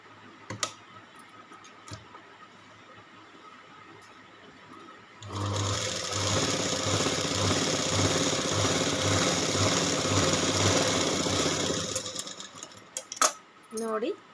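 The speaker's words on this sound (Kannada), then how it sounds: "ಫೋಲ್ಡ್ ಮಾಡಿ ಈ ರೀತಿ ಸ್ಟಿಚ್ ಮಾಡ್ಕೊಳ್ಳಿ." A sewing machine stitching folded fabric runs in one steady loud whirring burst of several seconds, preceded and followed by quieter handling clicks and rustles close by.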